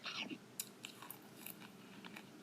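Crunchy candy is chewed up close for a mukbang, making faint crackling bites and crisp crunches over a low background hiss.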